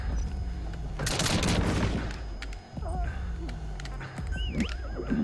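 Horse neighing and galloping in Metal Gear Solid V, whinnies rising over dense hoofbeats and bursts of gunfire, with someone talking throughout the loud game action.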